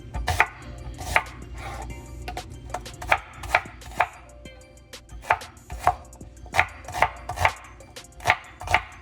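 A knife chopping basil and onions on a cutting board for homemade tomato basil sauce, sharp regular thuds repeating about once a second, close and distinct over faint background hum.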